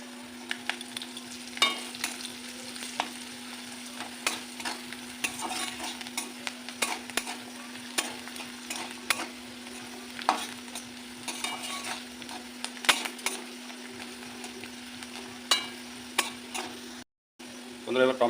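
Whole garlic cloves frying in oil, a soft steady sizzle with scattered pops and occasional utensil scrapes, close by, with a short gap near the end.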